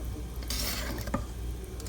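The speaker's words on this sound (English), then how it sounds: "thoroughly mix it again." Chocolate cake batter, thinned with boiling water, is stirred in a bowl, giving a steady wet, swishing churn with a soft clink partway through, close and continuous, with no voices.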